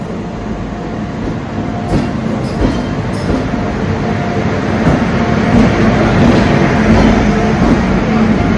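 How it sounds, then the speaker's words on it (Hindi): A special train hauled by a WAG 9 electric locomotive rolls past at night, a loud continuous rumble with wheel clatter heard from aboard a moving train, while a voice talks over it. "एक और स्पेशल ट्रेन WG 9 लोकोमोटिव के साथ।"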